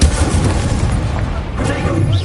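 An Incendio fire spell cast in Hogwarts Legacy bursts out as a loud, booming blast over a dense, continuous wash of combat effects, with a voice faintly present.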